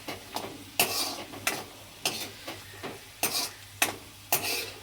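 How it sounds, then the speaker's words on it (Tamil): Cashew nuts frying gently in oil over a low flame for bisibele bath, a soft sizzle broken by regular sharp clicks and scrapes of a spoon against the pan, about one every half second, close and fairly quiet. "இந்த முந்திரி பருப்பை போட்டுடுங்க. போட்டு ஸ்லிம்லேயே இருக்கட்டும், இல்லைன்னா தீஞ்சிரும்."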